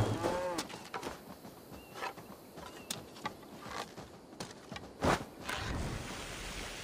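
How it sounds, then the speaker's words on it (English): Cows in Assassin's Creed Valhalla low in several drawn-out moos spaced across the scene, fairly soft against a quiet outdoor backdrop with occasional thuds, and no talking. "Killing cows unnecessarily."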